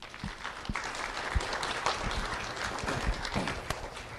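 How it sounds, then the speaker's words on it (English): Applause rises from the audience at a November 2021 ceremony welcoming a judge to speak, a dense steady patter of many hands with a few sharper claps standing out, sustained throughout at moderate loudness. "Welcome applause for Judge Branning."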